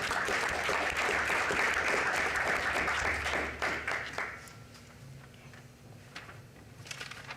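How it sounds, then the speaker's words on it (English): Applause for young artists at a city council meeting: a dense crowd clapping steadily and loudly, then thinning out to a few scattered claps as it dies away. "let's give them another round of applause"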